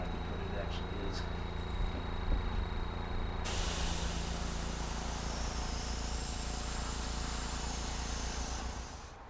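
Airbrush spraying paint onto HO scale hopper cars for weathering, a steady close hiss that surges louder partway through and holds continuously, with a faint mechanical hum underneath.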